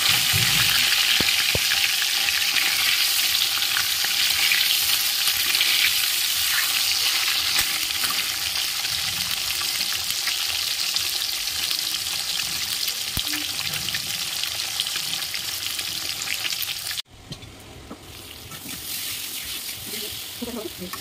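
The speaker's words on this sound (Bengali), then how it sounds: "তো মাছের ঝোল করবো বলে মাছটা ভেজে নিচ্ছি।" Fish shallow-frying in a pan for a Bengali fish curry, a steady loud sizzle and crackle close by, broken briefly by a clatter before frying continues, with someone talking over it.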